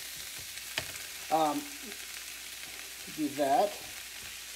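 Garlic, peppers and onion sizzle steadily in a pan for chili, a soft broadband hiss running throughout while a voice speaks briefly twice over it.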